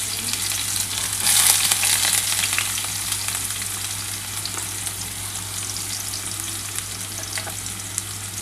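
Onion and garlic frying in hot oil, a loud, continuous crackling sizzle up close with a low steady hum beneath and no talking.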